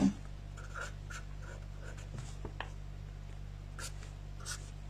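A pen writes numbers on paper for a class 5 fraction maths problem, producing faint, intermittent scratchy strokes close to the mic over a steady low hum.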